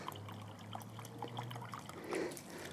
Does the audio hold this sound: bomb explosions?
no